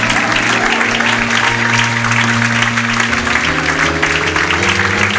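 A church congregation clapping together to acclaim the Lord, loud sustained applause filling the room for several seconds with a steady tonal drone underneath.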